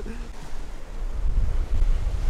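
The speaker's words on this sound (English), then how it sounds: "Crazy waves." Waves rolling onto a rocky shore, a loud rumbling surge that builds toward the end, mixed with wind buffeting the microphone.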